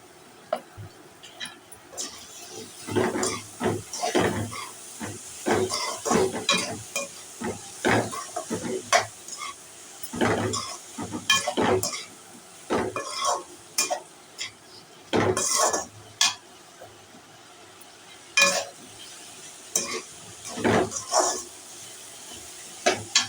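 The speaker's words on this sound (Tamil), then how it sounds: "குடமிளகா சேர்த்த பிறகு ஒரு 2 நிமிஷம் இந்த மாதிரி வதங்கட்டும்" Capsicum sautéing in a pan over a medium flame, with repeated metal clinks and scrapes from the stirring spoon against the pan and a faint sizzle beneath, close and alone.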